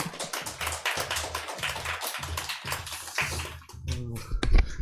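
A small church congregation claps to welcome a speaker, a close, uneven patter of hands in short bursts that thins out toward the end.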